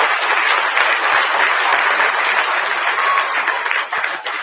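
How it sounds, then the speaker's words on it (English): An audience at a foundation day event applauds steadily, a dense, sustained wash of clapping from many hands that holds at an even level and starts to taper at the end. "We should really feel proud for ourselves and clap once again."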